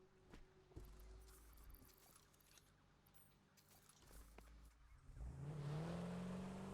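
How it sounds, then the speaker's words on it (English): A car drives in the video game Satisfactory, a quiet engine hum with scattered clicks that swells into a louder, rising drone over the final seconds. "Go for a ride in the car."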